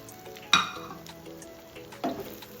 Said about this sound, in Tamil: சிக்கனை சேர்த்து நல்லா கலந்து விடுங்க